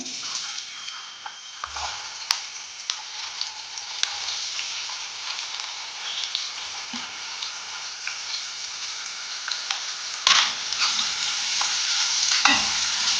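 Four finely chopped onions fry in a hot pan, a steady broad sizzle running the whole way with occasional scraping stirs and clicks of a spatula, close and fairly loud, no voices.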